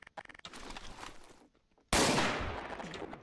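Gunfire in Garry's Mod: a sharp, loud broadband blast lands near the end and rings out, after a stretch of busier clattering game noise and a short near-silent gap.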